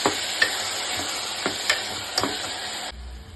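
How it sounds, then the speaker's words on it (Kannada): Ground tomato paste is stirred into a chickpea sambar in a pan: several scraping strokes of a spoon cut through a steady close sizzle, and the sound drops away quieter near the end. "ಹಾಕ್ಕೊಂಡು ಒಂದ್ಸಲ ತಿರುಗಿಸ್ಕೊಂಡ್ಬಿಡಿ."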